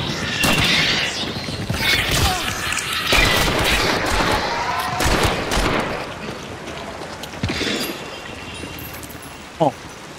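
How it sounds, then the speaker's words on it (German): Revolver fire in the Hunt: Showdown video game cracks out as a string of loud, sharp shots spaced irregularly over dense gameplay noise, with faint voices mixed in. "Das ist so eine Art Revolver,"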